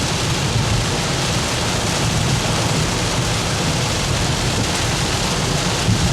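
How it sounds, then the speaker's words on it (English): Heavy rain from a California rainstorm pours steadily, a dense, constant roar of water with no pauses, loud and close throughout. "Heavy rain."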